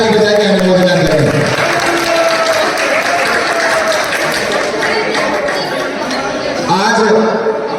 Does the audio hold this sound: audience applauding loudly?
yes